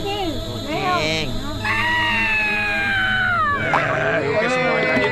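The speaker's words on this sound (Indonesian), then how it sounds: "Kucing." A cat meows in a drawn-out, wailing series of cries, loud and close, rising and falling in pitch over several seconds, with background activity beneath.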